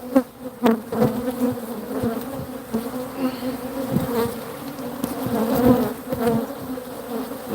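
Honey bees buzz densely at an open beehive during a frame inspection, a loud continuous drone close by, with occasional clicks and knocks from handling the hive.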